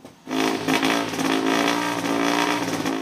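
A 1953 Dutch Bonnet vintage car engine at an auction in Tours revs up suddenly and holds a loud, throaty, steady roar close by.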